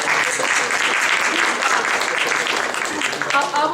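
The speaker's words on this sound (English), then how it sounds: "a big applause for Arjun" Steady, dense applause from a panel discussion audience at an entrepreneurship event, loud and continuous throughout with no letup.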